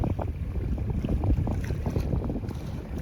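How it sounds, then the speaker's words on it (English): Little waves lap against a boat on the sea in a bay, a soft irregular slapping and splashing close by, mixed with light wind buffeting, no voices. "I keep hearing things now, like little waves."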